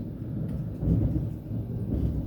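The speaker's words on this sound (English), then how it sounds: "Sorry about that, it's thundering outside." Thunder outside during a storm: a low, continuous rumble that swells slightly midway, steady and moderately loud with no voices.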